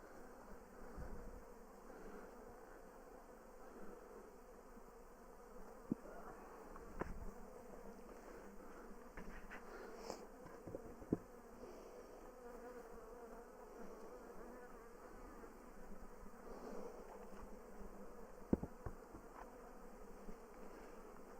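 Honey bees buzzing around a hive during removal of winter wraps, a faint, continuous hum with occasional closer passes and a few small handling knocks.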